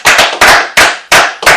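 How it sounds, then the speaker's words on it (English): Five sharp, loud claps in a quick, even rhythm, close and dry, the kind given as a round of applause in a conversation-show studio. "Round of claps."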